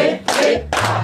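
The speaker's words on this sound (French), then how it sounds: "Applaudissons" A church congregation at an Easter celebration claps hands in two loud, close bursts of applause during worship.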